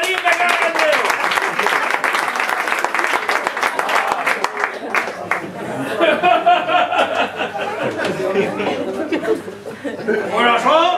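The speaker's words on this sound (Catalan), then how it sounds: "Un aplaudiment para el alcalde" A comedy show audience applauds the mayor with a dense burst of clapping that thins into scattered chuckles, laughter and a talking voice, then swells again near the end.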